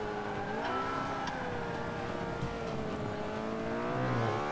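Race car in Forza Motorsport 5 heard from the in-car view, its engine droning with shifting revs and a brief tire squeal near the end, steady and moderately loud.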